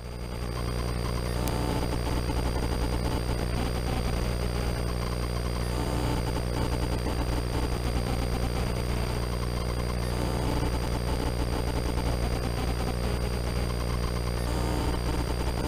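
A helicopter in flight during a training lesson near Auburn, with a loud steady rotor and engine drone filling the cabin throughout and no talk.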